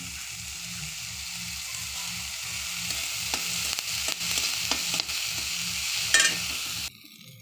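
Ginger paste frying in a pan for masala dosa filling, a steady broadband sizzle with a few sharp scrapes and clicks of stirring, ending abruptly near the close.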